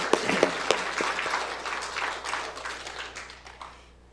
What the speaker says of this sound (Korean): 우리 평안을 주신 하나님께 영광의 박수를 올려드리겠습니다